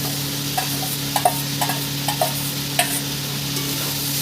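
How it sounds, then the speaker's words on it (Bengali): Chicken and banana flower stirred with fried potatoes in a pan, a run of light rhythmic spatula scrapes and taps over a soft continuous sizzle, with no talking. "দিয়ে ভালো করে নাড়িয়ে দেবো আমি।"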